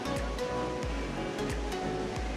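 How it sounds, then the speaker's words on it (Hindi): Fast-flowing mountain river in the Kinnaur area of Himachal Pradesh, heard as a steady, loud rush of water, close by and continuous, with no voices. "सुंदर नदी इतनी सुंदर एरिया में बहते हुए नहीं देखी थी"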